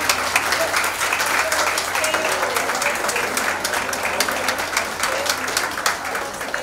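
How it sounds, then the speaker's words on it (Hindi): A seminar audience at a parents' involvement in child development program gives loud, sustained applause welcoming the chief guest, dense steady clapping filling the room throughout. "तालियों की बौछार से उनका हम स्वागत करेंगे।"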